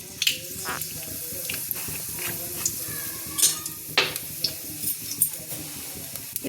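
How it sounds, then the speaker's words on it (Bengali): Hot oil sizzling, with dried red chillies and nigella seeds popping and crackling in quick, irregular bursts, close and fairly quiet. "তেল আমার গরম হয়ে গেছে আমি এতে দুটো শুকনো লঙ্কা ফাটিয়ে দিয়ে দিলাম তেলের উপরে আর দিচ্ছি কালো জিরে"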